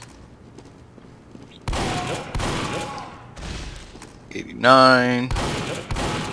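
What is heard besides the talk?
shotgun firing in a video game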